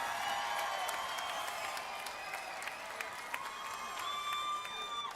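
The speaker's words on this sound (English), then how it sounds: "let's have a round of applause for these two featherweight warriors." Arena crowd at a PFC cage fighting event applauding two featherweight fighters after a three-round bout, sustained dense clapping with some cheers and whistles, moderately distant and steady.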